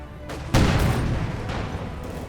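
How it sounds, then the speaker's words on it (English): MG42 machine gun fire in the Company of Heroes 2 wartime strategy game, a loud burst of gunfire with booming impacts that rumbles on and slowly fades. "Troops there immediately stopped by the MG42."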